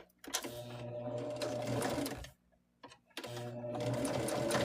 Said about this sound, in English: I'm just chain piecing them because it's easier to chain piece like a factory style